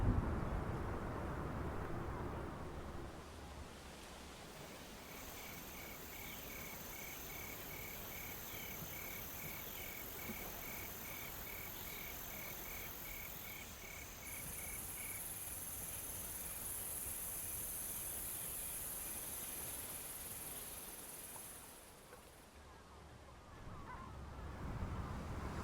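A looping bug ambience for a coastal game world, with a steady bed of insect and cricket chirring and a faint high whine, moderately quiet and continuous with a short dip near the end.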